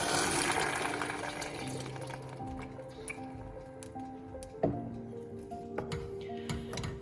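Liquid poured into a pan of tomato while cooking, a soft continuous watery pour with small drips and clicks, fairly quiet and close, with no talk over it.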